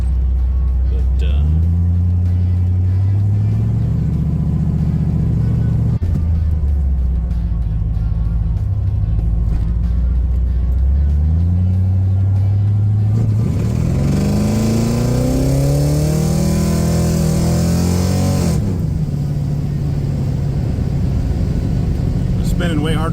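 A 1977 Avanti with a small-block Chevy V8 revs and accelerates, its engine note rising and falling in repeated sweeps, loud and close, then climbing harder into a higher whine before settling back.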